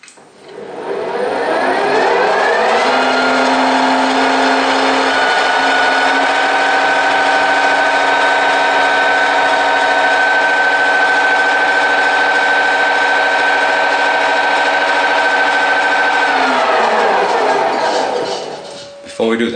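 Metal planer machine running in low gear, a loud sustained mechanical drone with steady whining tones that spools up, holds evenly for a long stretch, then winds down near the end.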